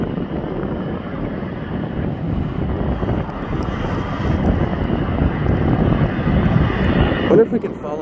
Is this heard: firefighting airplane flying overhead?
yes